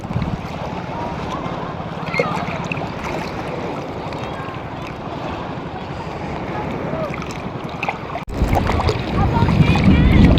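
Strong sea waves slosh and churn around a small wooden boat in rough water, a steady loud wash with wind buffeting the microphone, surging louder near the end.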